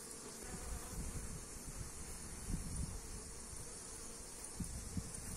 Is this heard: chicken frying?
no